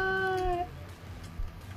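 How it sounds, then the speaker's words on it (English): A pet cat lets out a single drawn-out meow, close and clear, which ends abruptly and leaves low background noise. "My cat's got weird kitty anxieties."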